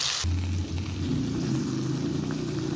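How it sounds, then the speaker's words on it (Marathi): Recheado masala paste roasting in hot oil over a medium-low flame, a steady close sizzle and crackle that carries on alone after a brief louder burst at the start. "मीडियम टू लो फ्लेमवरती आपल्याला हा मसाला भाजून घ्यायचा"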